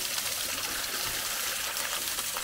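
Water scooped and poured into a container at a forest camp, a continuous close splashing and trickling wash with no talk.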